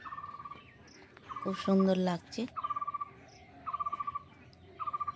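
Birds and insects call outdoors on a morning beside a wooded, flowering patch, with regular pulsing chirps repeating at a steady pace and a brief louder warbling call, while someone speaks briefly.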